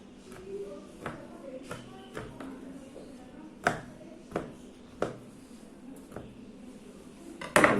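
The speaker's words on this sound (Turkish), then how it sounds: "bu şekilde baklavamızı kestik arkadaşlar" A knife cuts through baklava in a tray, making a series of quiet, crisp taps and crunches at irregular intervals, with a sharper, louder cut near the end.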